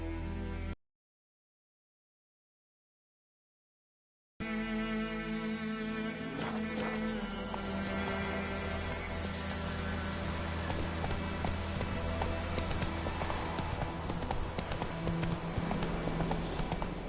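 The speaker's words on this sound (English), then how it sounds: "Run, Roach." Hooves clip-clop steadily from Roach the horse galloping in The Witcher III video game, a loud continuous rhythm under game music after a brief silent gap.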